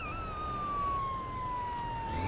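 Police car siren wailing steadily on a road near a taxi, a single long sliding tone that holds fairly loud over low traffic rumble, with no talking.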